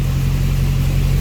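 A Duramax diesel swapped into a Cadillac Escalade idles steadily after starting, a close, even low rumble with no voices.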